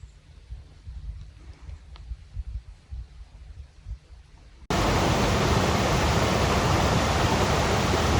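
Flowing water on a hiking trail: after a few seconds of soft ambient outdoor noise, a loud, steady rush of water cuts in abruptly and continues close by.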